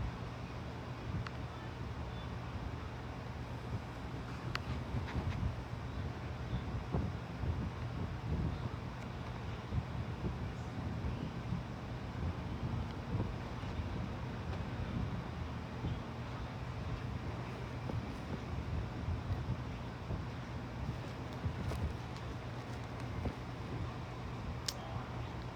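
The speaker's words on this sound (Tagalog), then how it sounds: "Lakas ng hangin." Steady, loud wind roaring and buffeting throughout, with a constant low rumble and no voices.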